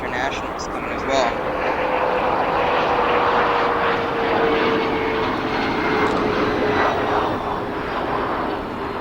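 Airliners arriving at O'Hare International Airport in Chicago, a steady broad engine roar holding loud throughout with a faint whine sliding across it, under an outdoor wash and some talk.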